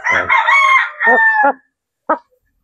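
A Dong Tao hen gives a loud, close run of drawn-out squawking calls and a couple of short clucks, then one last brief cluck after a pause.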